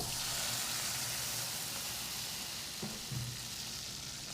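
Onion and green chili fry in a pan of oil with a loud, steady sizzle and hiss, a couple of light stirring knocks near the end, no voice heard.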